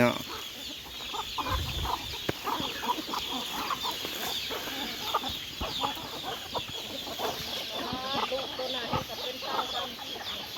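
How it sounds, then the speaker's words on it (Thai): A hen with a large brood of chicks clucks steadily while the chicks peep around her, a busy, close mix of repeated clucks and thin chirps that continues throughout, with faint talk in the background. "ไก่ลูกดก"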